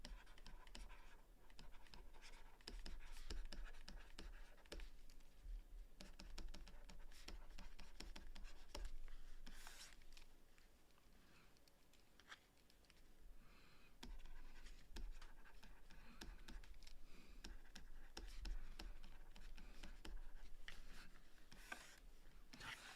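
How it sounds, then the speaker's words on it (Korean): A pen draws a table by hand on paper, producing a quiet, continuous close-up scratching with short strokes and brief pauses throughout. "요 표를 그려줍니다"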